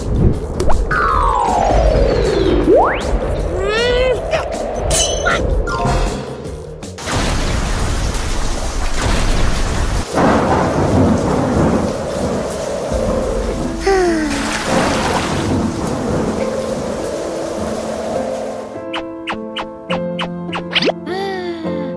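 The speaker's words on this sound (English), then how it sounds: "Oh no! It's raining!" Heavy rain pours steadily while rumbling thunder rolls through, with shifting tonal sounds and mechanical noise layered over the storm.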